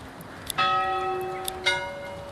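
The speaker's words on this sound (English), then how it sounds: "Who wants that to be your church bell?" Two bell strikes from a church in the medieval strategy game Manor Lords, each a bright, sustained ring that fades gradually, heard alone over a quiet background.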